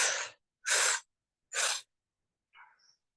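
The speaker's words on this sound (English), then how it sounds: "Exhale through the nose" Kundalini yoga breathing, with three sharp, forceful exhales through the nose in steady rhythm, close and loud, followed by a softer, shorter breath.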